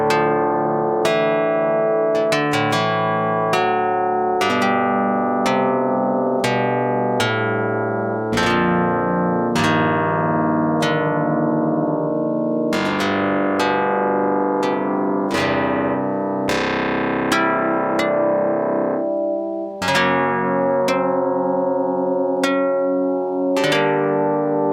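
Plucked, harpsichord-like string synth chords struck one after another, each ringing and decaying, forming slightly unusual harmonies in quarter-comma meantone tuning; no voices.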